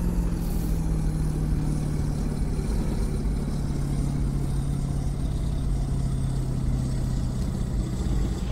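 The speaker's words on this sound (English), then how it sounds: "Engine braking now." A continuous, rumbling Scania T Series truck engine braking in Euro Truck Simulator, with a low droning tone, heard steadily and fairly loud throughout without speech.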